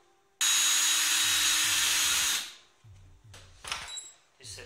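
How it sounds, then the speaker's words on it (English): A power drill whirs loudly and steadily for about two seconds, drilling a small hole in an R2-D2 replica radar eye, then stops, followed by quieter clicks and scraping handling sounds. "we're going to drill a small hole there"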